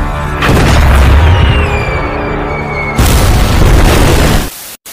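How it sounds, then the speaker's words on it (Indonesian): An American tank fires in a brutal war film battle, a loud close boom rolling into a sustained blast, then a second heavy burst before it cuts abruptly. "malah harus menerima tembakan dari tank Amerika."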